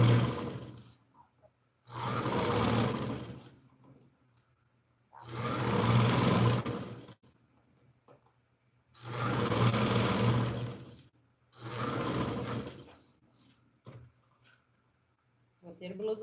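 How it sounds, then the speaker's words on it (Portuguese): A sewing machine topstitches around the armhole of a blouse in four steady runs of a couple of seconds each, separated by brief pauses. The clatter is close and fairly loud, with no voices over it. "dobro o trespasse de costura para cá e faço o pesponto"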